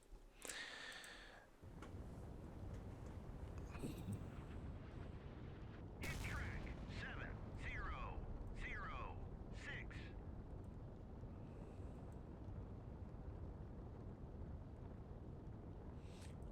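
Torpedoes and Tomahawk missiles strike a warship in the naval combat game Sea Power: a steady, heavy rumble of explosions runs throughout, with sharp blasts near the start and a cluster of whistling, streaking impacts in the middle.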